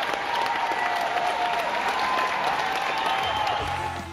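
Audience applause, a dense steady wash of many hands clapping at full strength throughout, tapering slightly at the very end.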